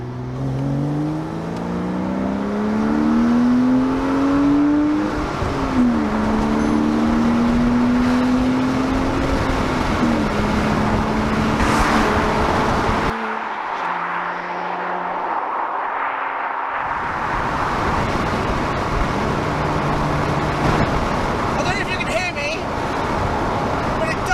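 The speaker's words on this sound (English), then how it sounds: "let's give it a little blast down the dual carriageway with the roof down" Porsche convertible driven fast down a dual carriageway with the roof down, engine note rising and shifting through gears alongside heavy wind and road roar, with a brief quieter stretch midway before the rush returns.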